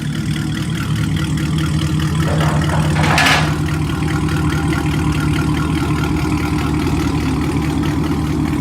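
A car engine idles with a steady, deep, close rumble the whole way through, a brief brighter burst near the middle, and no talking.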